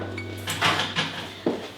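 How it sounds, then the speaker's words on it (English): A knife stirs a glass jar of pickled cherries, giving a few light clinks and scrapes against the glass at a close distance over a low steady hum. "If you don't have a spoon, you can carefully stir it with your knife."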